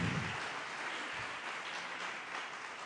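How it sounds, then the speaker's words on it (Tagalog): Church congregation applauding during a worship service, a steady, dense wash of clapping that holds at an even level from start to finish. "Ibigay ang napakataas na palakpak sa Diyos na buhay."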